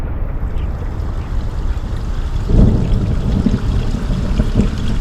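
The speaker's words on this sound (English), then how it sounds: "And there it comes, starting the waterfall." A steady rushing of rainwater runoff pours and splashes down a waterfall on rural Central Texas land, swelling louder partway through as the flow picks up.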